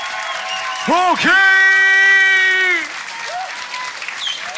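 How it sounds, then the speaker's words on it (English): Applause and cheering from the crowd at the 2018 Worldwide solo beatbox battle, a sustained loud roar with a strong whooping voice that rises, holds about two seconds, then eases into lighter clapping. "Et on peut applaudir Dollar Cup Beatbox Worldwide 2018, un maximum de bruit pour Cola."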